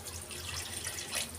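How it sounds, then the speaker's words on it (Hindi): Water is poured into a pan of paneer gravy being fried in curd on the stove, giving a soft, steady splashing hiss, quiet and continuous with no talk. "पानी डालेंगे"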